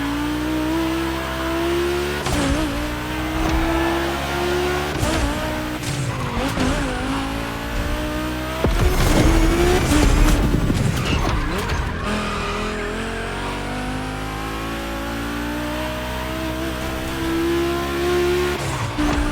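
Volkswagen race cars in The Crew Motorfest roar around the track, engines revving and shifting as tires squeal through corners, loud and continuous, with a brief burst of louder skidding midway.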